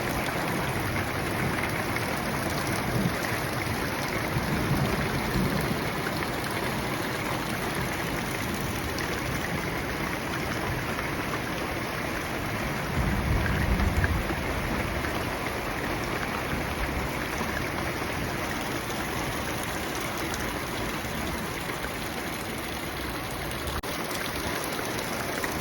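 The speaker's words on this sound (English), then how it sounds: "Big storm has been lightning as well." Steady heavy rain pours down during a big storm on an off-grid homestead, a dense continuous hiss with faint low rumbles, no voices.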